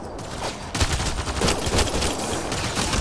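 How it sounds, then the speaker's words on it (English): Dense, continuous machine gun fire in the video game Mass Effect Andromeda, loud sustained bursts of rapid automatic shots layered together without pause, no voices. "Why does he have a machine gun?"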